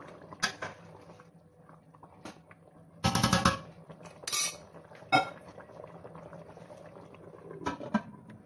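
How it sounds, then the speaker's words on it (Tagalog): Chicken curry seasoned with black pepper boils in a pot over high heat, bubbling steadily with occasional clinks and clatters of utensils against the cookware. "let we boil for like 3 minutes more"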